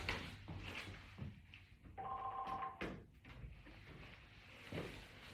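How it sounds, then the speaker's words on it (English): A telephone rings once indoors, a short electronic two-tone trill heard at a moderate distance amid quiet room noise and faint movement. "my telephone is ringing"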